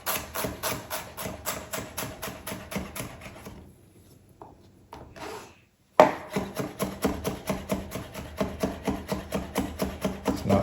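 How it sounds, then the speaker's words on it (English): Rapid rhythmic knife chopping of ginger on a cutting board, close and loud, with steady repeated strikes, a brief quieter pause midway, then the fast chopping resumes. "I'll need a lot of ginger. We're gonna"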